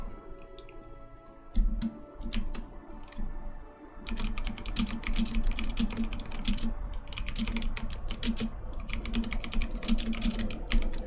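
Someone types on a computer keyboard, with quick bursts of key clicks in uneven runs that grow busier halfway through, close and clear.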